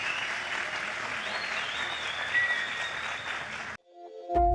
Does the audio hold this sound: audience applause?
yes